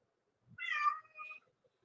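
A single house cat gives one clear, close meow with a short trailing second note, alone against near silence.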